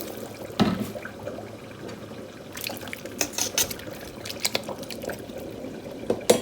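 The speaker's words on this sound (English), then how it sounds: "So I'm going to add water to it." Water pours and splashes into a pot of beef for bitter leaf soup in uneven bursts, with a few clinks of metal against the rim, close up and moderately quiet.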